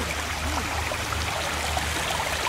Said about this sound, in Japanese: 庭園には、川が流れ